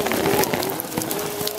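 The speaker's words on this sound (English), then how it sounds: "It's raining so hard." Heavy rain pours down outdoors in Marrakesh, Morocco, a steady dense patter of drops across the whole stretch with no pauses, fairly loud and close, with no one talking over it.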